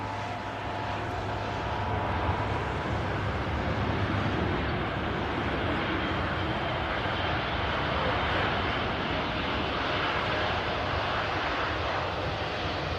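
A Boeing Dreamliner landing at Manchester Airport, its engines giving a sustained, fairly loud jet roar that holds steady throughout, with no talking over it.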